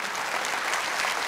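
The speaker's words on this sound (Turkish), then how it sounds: "Ben hepsini ayakta alkışlıyorum." Audience applause at a televised singing competition finale, a dense steady wash of clapping filling the whole moment without any talk over it.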